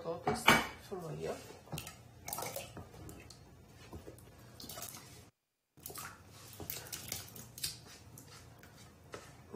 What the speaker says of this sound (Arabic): هسلق البطاطس في ميه،